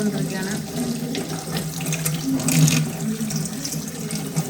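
Tap water runs steadily into a sink while a whole chicken is washed, a continuous close splashing rush with small shifts as the stream hits the meat.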